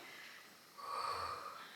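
A soft, gentle exhale through the mouth during a beginner Pilates exercise, one quiet breathy push of air in a calm room with no talking.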